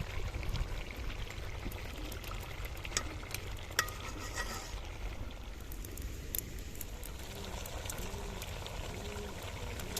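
Red chilli powder stirred into a karahi frying over a village-style fire, a continuous close sizzle and scraping stir with occasional clinks, no talking.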